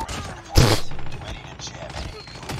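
A single sharp sniper gunshot in a first-person shooter video game, one loud crack with a short rumbling tail over busy game ambience, with a voice talking around it.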